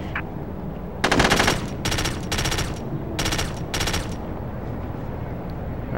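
Automatic gunfire in the video game SOCOM U.S. Navy SEALs: four loud, rapid bursts of machine-gun fire, each about half a second long, separated by short pauses over steady game ambience.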